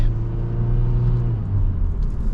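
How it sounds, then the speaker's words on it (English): Engine of a 2024 Hyundai Venue with an IVT transmission hums steadily at moderate revs, then the pitch drops as it shifts, heard from inside the cabin with no talking. "This IVT transmission shifts pretty quick."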